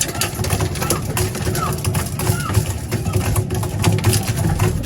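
Young racing pigeons coo softly in a loft amid rustling and flapping, with low steady background rumble and no clear speech.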